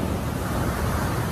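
Rough surf breaks on an Indonesian beach, heard as a dense, steady roar of crashing water mixed with wind buffeting the microphone.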